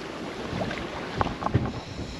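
Blustery, gusty wind buffeting the microphone aboard a sailboat, a constant rushing roar with a couple of brief knocks and splashes.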